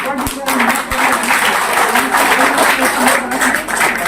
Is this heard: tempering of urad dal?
no